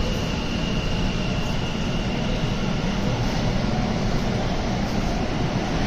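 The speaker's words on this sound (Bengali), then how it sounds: "ট্রেন এবার যাচ্ছে হাওড়া ময়দানের দিকে।" Kolkata's underwater metro train running beneath the river toward Howrah Maidan, heard from inside as a constant, dense rumbling roar with no voices.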